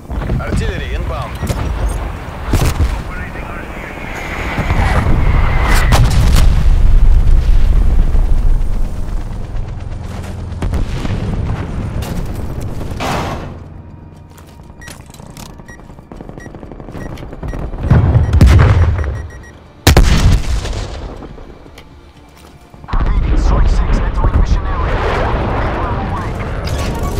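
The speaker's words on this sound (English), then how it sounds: "Artillery inbound." Artillery strike explosions in Call of Duty Black Ops Cold War boom and rumble in heavy overlapping waves. Bursts of gunfire-like crackle and a sudden sharp blast near the end fill a loud, dense battlefield mix.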